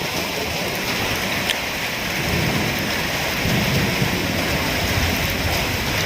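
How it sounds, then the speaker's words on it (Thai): A summer storm lashes a village house front with heavy, dense rain and rumbling thunder, a loud continuous roar that never lets up. "พายุเข้านะครับพายุเข้า"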